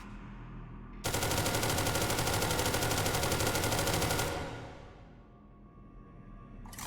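A Crossfix gun in SCP: Secret Laboratory fires one long, loud, rapid automatic burst lasting about three seconds, then the sound trails off into quiet ambience.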